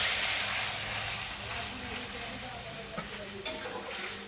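Mung dal cooks in a pan with a constant close sizzle and hiss, a few soft clinks of stirring near the end, and a voice talking faintly under it.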